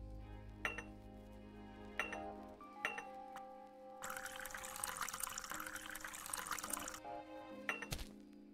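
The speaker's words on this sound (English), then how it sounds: "I always start with hot water." Hot water pours steadily for about three seconds in the café video game Zipp's Café, framed by soft clicks and chimes from the game interface, fairly quiet overall.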